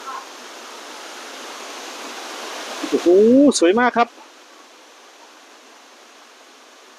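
A forest waterfall rushes as a constant broad hiss, with a man briefly exclaiming over it midway.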